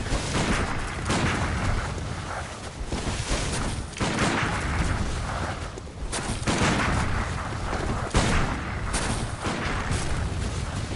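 Dense, continuous gunfire in Bloodborne PvP, with repeated loud, booming shots fired in rapid succession over a constant roar of game noise.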